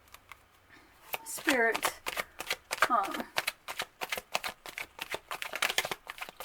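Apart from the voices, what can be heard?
shuffling tarot cards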